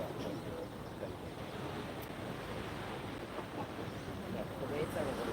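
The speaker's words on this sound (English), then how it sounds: "The waves are a little lively up here" Ocean waves wash onto the beach at Speightstown, Barbados, a steady broadband surf rush with wind buffeting the microphone, fairly loud and continuous, with faint voices in the background.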